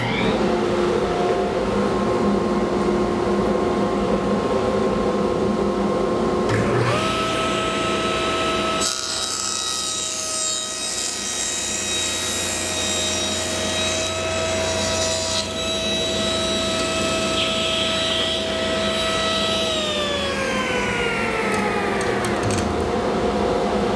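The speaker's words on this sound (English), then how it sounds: "Dust collection." A woodworking shop's machinery runs with a constant loud roar and a whining motor tone the whole time, its pitch shifting partway through and winding down near the end, no talking.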